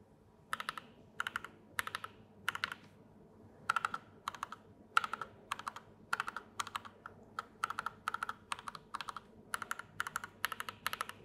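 Bursts of fast typing on a mechanical keyboard fitted with SA-profile ABS keycaps, crisp clacky keystrokes in short repeated runs separated by brief pauses, close and alone with no talk.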